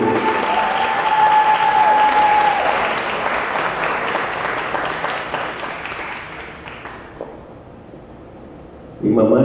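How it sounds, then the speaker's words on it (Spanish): An audience at an album launch event applauds, loud and sustained clapping that slowly thins and fades away, then a voice starts speaking at the very end. "pido un fuerte aplauso y quiero que nos acompañe"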